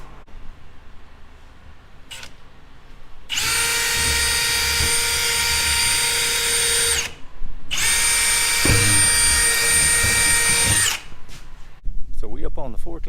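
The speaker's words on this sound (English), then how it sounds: "I'll drill a hole" A power drill bores through a standing seam metal roof panel in two loud, sustained whining bursts with a short pause between them, followed by clattering handling noises.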